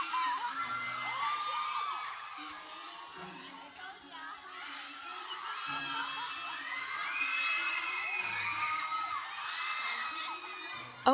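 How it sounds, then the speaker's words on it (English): A crowd of fans screaming and cheering continuously at a dance cover performance, with high shrieks rising and falling over pulsing background music for over ten seconds. "Oh my god, the screaming."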